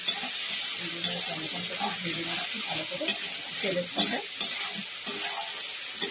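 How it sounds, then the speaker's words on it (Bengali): Fish frying in a pan with tomatoes for a curry gives a steady sizzle and hiss, punctuated by stirring scrapes and clinks throughout. "একটু ভেজে নিচ্ছি"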